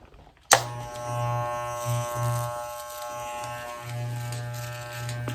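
Electric hair clippers switching on abruptly and running with a steady close buzzing hum that wavers slightly as they move during a home haircut, no talking.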